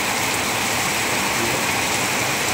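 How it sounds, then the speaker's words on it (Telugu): Heavy rain pours down in Telangana, a dense, constant roaring hiss of water on surfaces, loud and close throughout with no break or voices. "వర్షం కోసం ఆగుతుందేమో అని, తక్కువ అవుతుందేమో అనుకుంటే అది తక్కువగా ఉండలేదు."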